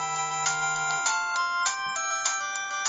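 A monophonic Nokia ringtone plays through a tiny phone speaker, bright beeping notes in a quick melodic run, slightly crunchy and distorted, heard close and alone.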